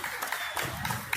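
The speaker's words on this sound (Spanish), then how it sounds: "Y oiga como la gente aplaude" People in a crowd applaud at an outdoor Pride community event, a short burst of dense clapping mixed with general crowd noise.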